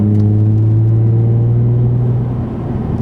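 Steady low engine drone from a Nissan 350Z/370Z fitted with an Invidia Gemini cat-back exhaust and Berk Tech high-flow cats, heard from inside the cabin as a constant deep hum while cruising, no talk.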